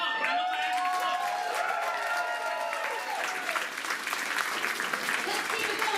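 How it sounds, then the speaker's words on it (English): Convention crowd applauding the candidates, with clapping and some cheering mixed with voices and sweeping tonal sounds early on, then a denser burst of claps toward the end. "A nice patriotic round of applause for both of our candidates."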